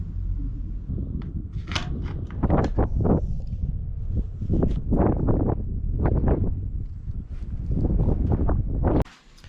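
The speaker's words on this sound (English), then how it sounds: "The winds sound stronger inside than they probably are outside." Strong wind gusts heard from inside a portable cabin rise and fall in repeated whooshing surges, buffeting loudly with some rattling, then cut off abruptly at the end.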